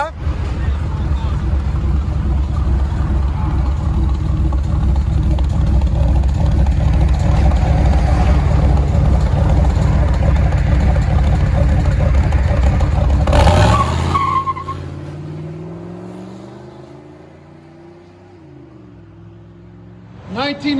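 A 1994 Chevy 1500 with a 5.7L V8, stock converter and 3-inch exhaust roars loudly and steadily, then revs drop away into a fading idle with people talking close by.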